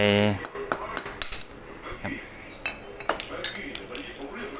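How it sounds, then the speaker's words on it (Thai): Several sharp metallic taps and knocks, irregular and close, as a part of an electric fan is hammered into place, with brief clinks between them. "ก็เพื่อนๆค่อยตอกลงไปนะครับ อันนี้ผมตอกลงไป"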